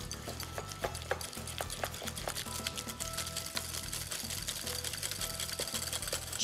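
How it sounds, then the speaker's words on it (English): Mascarpone cheese being whisked into egg yolks for a custard finish to rice pudding, a steady rapid rhythmic clicking and scraping of whisk against bowl, continuous and fairly close, with no talk over it. "Two nice tablespoons of mascarpone cheese. Whisk that into the egg yolks."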